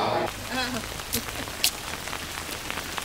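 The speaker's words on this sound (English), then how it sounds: "It's raining." Rain falls steadily on surfaces at the Jordan River, a close, continuous patter with a few louder drops, while people talk briefly at the start.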